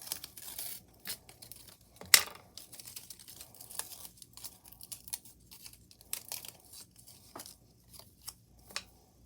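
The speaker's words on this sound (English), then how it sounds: "So let's remove this sticker." A sticker peels off a sticker sheet in soft crinkling and tearing bursts, with one sharp rip partway through and small scattered papery clicks and rustles close by in a quiet room.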